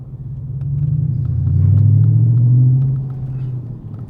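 A deep, throaty Audi RS5 exhaust with a muffler delete rumbles close by, swelling into a louder rev in the middle before easing back to a low burble.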